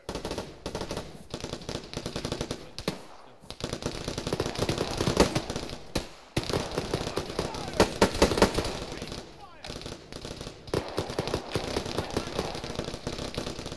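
Rapid bursts of automatic gunfire in the video game COFFEE: Operation Careless Vulture, loud and close, crackling in dense runs with brief gaps, while voices talk at times.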